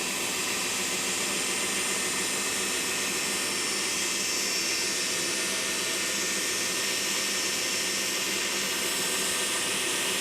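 An Almaz KG 589 electric coffee grinder runs continuously with a steady whirring hiss at an even level for the whole stretch, with no talking.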